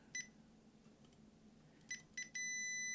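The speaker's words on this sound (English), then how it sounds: "Go back to beeping." Several short, high-pitched electronic beeps: a quick pair, then a single beep that turns into a steady continuous tone over a low background hum.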